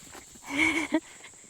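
A single short bleating call rings out from a farm animal being moved to pasture, followed by a brief second note against a quiet outdoor background.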